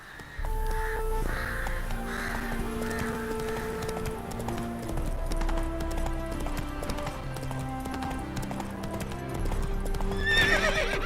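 A horse gallops in The Witcher video game, with a steady clip-clop of hooves and whinnies, set against a game music score and some bird caws.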